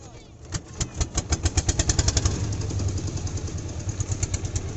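A river boat's engine runs steadily nearby, a rhythmic low chugging that picks up pace and then holds a fast, even beat, with a voice talking briefly over it.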